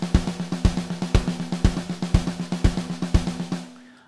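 A programmed drum beat with accented hi-hat plays back in Pro Tools, a steady driving pattern of punchy kick hits and crisp cymbal ticks, clean and close, ending in a short decaying tail.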